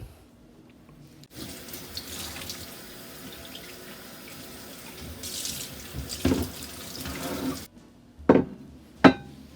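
Tap water runs into a sink to rinse a salmon fillet, a steady stream that starts abruptly, swells, then stops, followed by a couple of wet knocks and drips.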